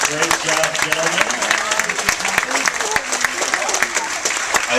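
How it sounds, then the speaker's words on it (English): A cruise ship audience gives a team a round of applause at a family cooking contest, loud and sustained clapping with crowd noise, voices and cheering mixed in throughout. "Will you give our first team a big round of applause?"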